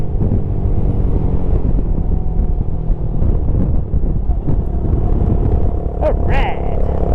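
Suzuki FL125 Address scooter ridden on a frosty road, its small engine a loud continuous drone buried under heavy wind rush, steady throughout with a brief higher whine near the end.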